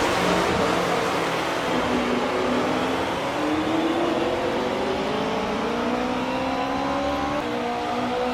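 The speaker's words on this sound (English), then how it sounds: "Die Motoren heulen auf" Race car engines roaring together at the start of the 1957 German Grand Prix, Ferraris and Maseratis on the grid, a steady loud mass of rising engine tones through the whole stretch.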